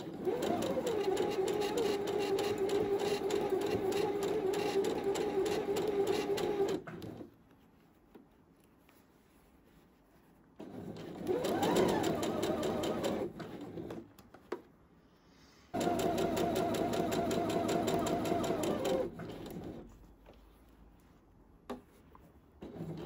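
A sewing machine runs a zigzag seam on fabric for a men's boxer, with a loud steady motor whir in three long bursts separated by quiet pauses and a few soft handling clicks.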